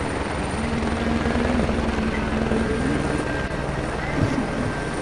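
Helicopter rotor drone in a WRC rally video game during an online championship round in Sweden, a steady, fairly loud chopping hum held throughout, with commentators talking over it.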